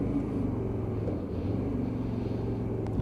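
A Hyosung GT125R motorcycle brakes hard with the clutch pulled in, giving a steady low engine drone at close range with no voices.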